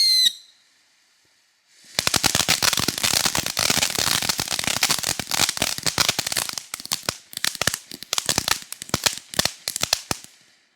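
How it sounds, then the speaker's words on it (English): A Black Cat Cuckoo Fountain firework erupts after a brief quiet pause into dense, loud crackling with rapid popping and whistling, sustained for several seconds before thinning out. "Expect some crackling and definitely expect some whistling, but here is Black Cat's Cuckoo Fountain."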